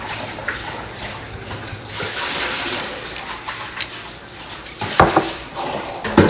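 Apple cider vinegar poured over garlic in a jar, a liquid trickle amid glassy clinks and utensil knocks, with sharper clatter near the end and no speech.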